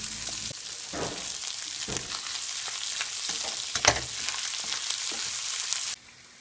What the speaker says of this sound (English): we're going to press down lightly on the hash browns. That way they get brown.